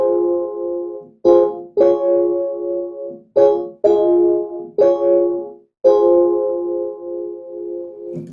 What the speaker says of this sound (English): So that's the E-piano.